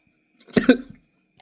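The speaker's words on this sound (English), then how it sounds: "I am having some little bit of cough" Two quick coughs in close succession, near and moderately loud, with brief quiet before and after.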